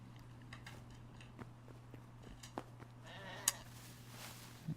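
Sheep bleat faintly in a video game, with a short, quiet bleat standing out over a low steady hum and light footstep-like taps.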